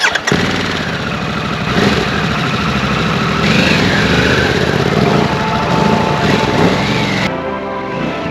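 A motorcycle ridden at speed on a dirt road, its engine droning loud and steady close by under heavy wind rush, with a short drop in the noise near the end.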